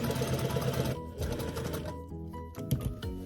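A sewing machine stitches a leaf pattern onto fabric, its close, steady mechanical whir broken into a few uneven bursts with brief pauses and stops.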